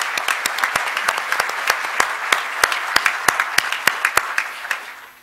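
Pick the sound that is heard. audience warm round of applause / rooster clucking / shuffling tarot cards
audience warm round of applause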